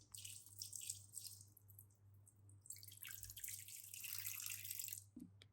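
Water pours from a tap into a pressure cooker pot for haneed lamb, a steady splashing stream that pauses briefly midway and resumes, ending with a small clink; no one speaks.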